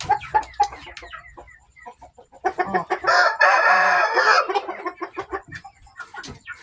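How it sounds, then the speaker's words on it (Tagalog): A three-month-old Japanese Shamo stag rooster crows once loudly and close, a strained drawn-out call in the middle, framed by bursts of clucking and scratchy bird calls before and after. "Ito ang stag natin guys, 3 months old. Tako, Japanese Shamo."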